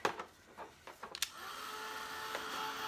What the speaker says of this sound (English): Alright, so let's blow dry that.